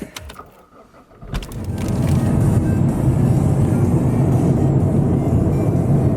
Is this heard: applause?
no